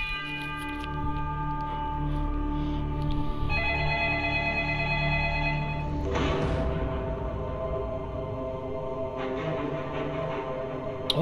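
A telephone rings steadily for several seconds as a bright, tonal repeating ring over a sustained musical background, with no voices.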